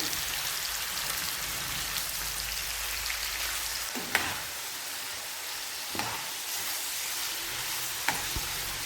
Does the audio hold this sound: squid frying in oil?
yes